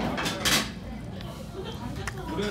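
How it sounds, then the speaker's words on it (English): Utensils clink against a shell as sea urchin roe is mixed with rice at a Seoul eatery, a few close scraping taps over a busy room murmur with voices talking in the background. "So you have to mix the roll with the rice in the shell."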